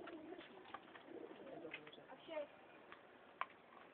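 Pigeons in Pimpri, Pune coo softly at a distance, faint low murmuring calls repeating through a quiet background with a few sharp clicks.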